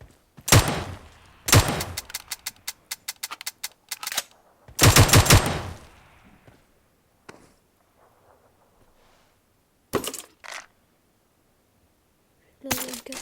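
Burst-fire gunshots from a weapon in a video game crack out in several sharp, loud rapid clusters separated by quiet gaps, with a faint voice between bursts.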